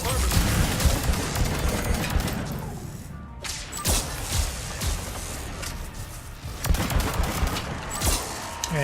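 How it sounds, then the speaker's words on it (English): Heavy sustained gunfire aimed at a Geth Prime in Mass Effect 3, dense rapid bursts of shots and impacts that keep going with brief lulls, loud and close. "That's a lot of bullets you're dumping into him."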